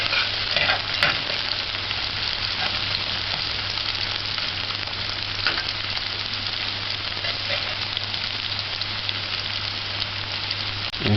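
Onions and garlic sautéing in a pan for a corned beef shell macaroni dish, giving a continuous close sizzle and crackle with occasional stirring scrapes, steady throughout and without talk.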